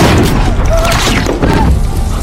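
A car blows up in a New York mob crime film, a loud, sustained booming blast with crashing, rumbling debris that fills the whole moment, with raised voices mixed in.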